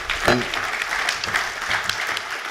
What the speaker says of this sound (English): a big round of applause for the panel here